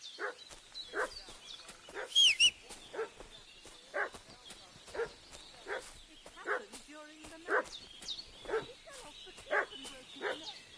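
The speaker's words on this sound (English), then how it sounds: "What's that dog making such a fuss about?" A dog barks repeatedly in the video game Kingdom Come: Deliverance 2, with a series of evenly spaced, mid-distance woofs and a few whimpery yips, while speech is faintly present in the background.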